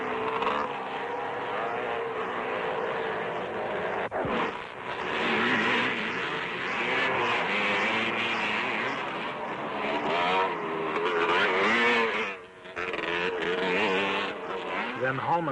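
250 CZ motocross motorcycles racing at the 1968 world championship, their engines revving and whining in rising and falling sweeps, with a brief dip before the roar returns, all under someone narrating.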